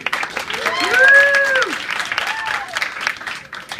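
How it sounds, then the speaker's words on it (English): A crowd at an improv comedy show breaks into applause, a dense wash of clapping that swells and fades, with voices calling and cheering over it. "Give the grave of Spork River a round of applause, please."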